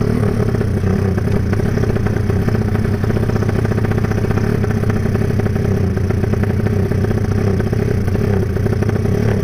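A Honda Tiger motorcycle with a rebuilt 300cc engine, still being broken in, drones loud and steady while riding, a continuous close rumble with faint rattling, no pauses throughout.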